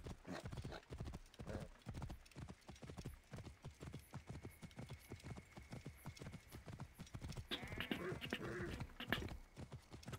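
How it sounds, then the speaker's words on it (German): A horse gallops in the video game Assassin's Creed Origins, its hooves pounding in a fast, steady, rhythmic clip-clop that stays close and loud throughout, with a brief whinny-like sound near the end. "Kannst auch ein bisschen schneller reiten, Pferdchen."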